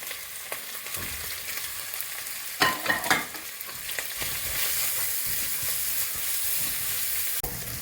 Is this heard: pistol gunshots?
no